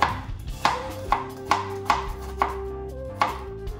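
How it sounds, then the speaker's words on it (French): A knife chops an onion on a cutting board, about eight sharp, evenly spaced thuds, close and clear with no talking. "tu vas hacher ton oignon comme ça"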